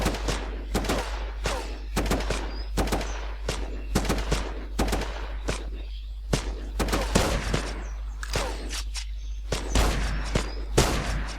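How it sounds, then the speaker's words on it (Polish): Enemies open fire in the shooter game Terrorist Takedown, set in Colombia, with rapid bursts of gunshots and machine-gun volleys cracking repeatedly in irregular clusters throughout, loud and dense with brief gaps. "Czyli widzicie w jakich kierunkach oni strzelają?"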